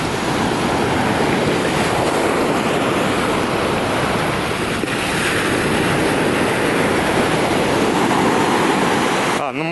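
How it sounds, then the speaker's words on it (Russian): Small sea waves wash steadily onto Cleopatra Beach in Alanya, a dense, continuous roar of surf that stays loud and close for the whole stretch, with wind buffeting the microphone and no voices heard. "Такие волны, хотя кто-то может и купается местные."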